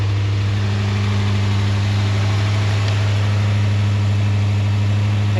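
HammerHead 250cc go-kart engine running loud and close, a steady idling drone with a strong low hum and rapid even firing pulses, no voices.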